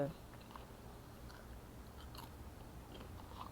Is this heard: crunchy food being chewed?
yes